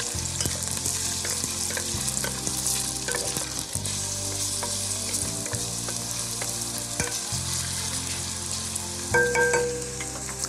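Chopped red onion sizzles steadily in hot olive oil in a pot, a dense, continuous frying crackle with occasional stirring scrapes and a low background hum throughout.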